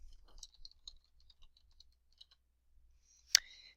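Typing on a computer keyboard, light irregular key clicks scattered through the first half, then quiet, and a single louder sharper click near the end.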